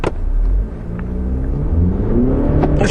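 An Audi Q3 with automatic transmission pulls away from a standstill on icy ground with traction control on, its engine rumbling and rising steadily in pitch as it gathers speed, close and loud.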